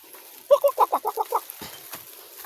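Wild junglefowl (labuyo) gives a rapid run of about seven clucks, moderately near in open outdoor ambience, followed by a couple of faint rustles.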